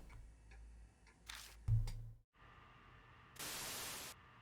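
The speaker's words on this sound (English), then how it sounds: "Radio noise." Bursts of harsh radio static hiss through a telephone handset in the video game Spirit Hunter: NG, with a low hum and a few clicks, swelling louder toward the end.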